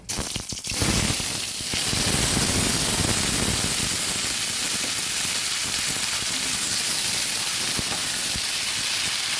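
Steamed jackfruit pieces are dropped into hot oil, setting off a loud, steady hissing sizzle that begins with a sharp burst and holds evenly, close and alone.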